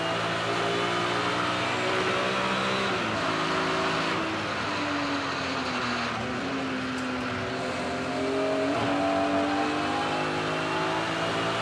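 A BMW M3 Thunder Saloons race car at Castle Combe circuit drones loudly from onboard, its engine note climbing and dropping through a quick early upshift, with steady road and wind roar underneath.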